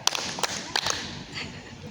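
Several crisp hand claps ring out in a Scout clap-counting game, three or four sharp beats close by and moderately loud, then a short lull with faint background murmur.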